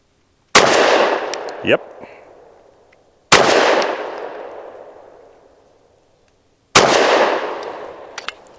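A SAR9 SC Gen 3 compact pistol fires three sharp, loud shots of Winchester Silvertip 115-grain ammunition, spaced a few seconds apart, each cracking and echoing as it fades, with a brief word spoken between the first two.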